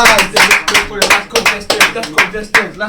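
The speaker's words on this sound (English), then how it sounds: "let's just clap for Go." A few people clap for a talent show contestant in a loose, uneven rhythm of loud, close hand claps that come in small clusters, with voices heard faintly between them.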